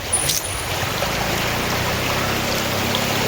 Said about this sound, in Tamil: இந்த தண்ணி இங்கேருந்து அடுத்த கிராமத்துக்கு இந்த தண்ணி அப்படியே போகுது